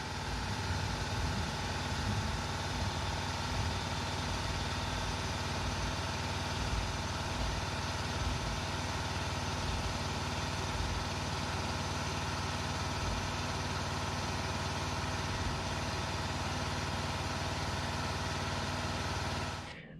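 An air compressor runs flat out to inflate a Vevor 6 ton air jack, giving a loud, constant droning hum for about twenty seconds that cuts off abruptly at the very end.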